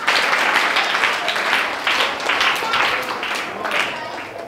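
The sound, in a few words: students applauding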